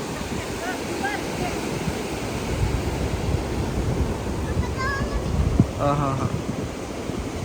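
Rough sea waves at Varkala beach in Kerala churn in a steady, broadband roar close by, with a brief spoken word near the end.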